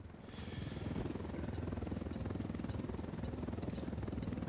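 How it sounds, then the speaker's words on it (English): A helicopter in Ghost Recon Wildlands thunders overhead with a steady, rapid rotor thump, close and constant, with a sharp burst near the start and no talk. "Oh, it's that chopper."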